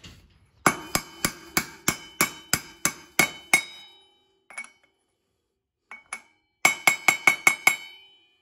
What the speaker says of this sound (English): we're gonna grab our socket and hammer, press this bearing in.